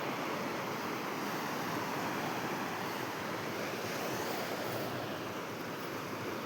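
Sea waves washing against the shore in strong wind, a dense continuous roar of surf with gusting wind buffeting the microphone, steady and loud with no voices.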